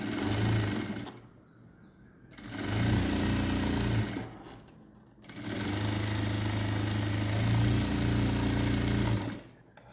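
An electric sewing machine stitches a chudidar sleeve piece in two long runs of steady motor whirring, with a short pause between them and a final stop.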